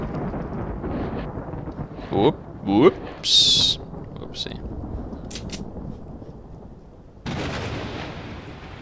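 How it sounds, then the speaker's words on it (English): Thunder and lightning in the S.T.A.L.K.E.R.: Lost Alpha video game: a few sharp cracks strike close together, then a low rumble rolls under wind, with someone briefly speaking over it. "Oh, that thunder and lightning is fantastic."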